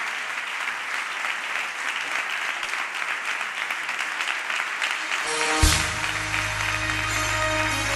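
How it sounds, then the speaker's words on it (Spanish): Crowd applause at an open-air campaign rally closing event in Villanueva de la Serena, a steady dense clapping from a large audience that swells near the end, with a loud burst and a low amplified hum from the PA. "Por eso quiero pediros un aplauso tan sonoro que se escuche en Entre Ríos, Zurbarán y Valdivia para Ana Belén Fernández González."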